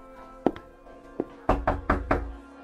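Knocks land on a wooden door in a radio drama: two scattered raps, then a firm run of four quick, loud knocks, close and resonant.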